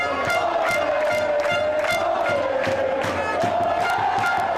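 A football crowd at a Rock Cup final erupts in sustained wild cheering after a late winning volley into the net, a dense roar with shouts and whistles carrying steadily throughout.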